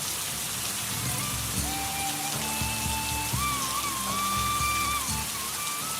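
Heavy rain hisses steadily throughout, with faint background music and tones underneath.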